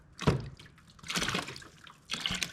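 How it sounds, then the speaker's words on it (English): Water drips and trickles from a drained car water pump in a few separate bursts, each a short splashing patter, with quiet pauses in between and no voices. "Then a little drip."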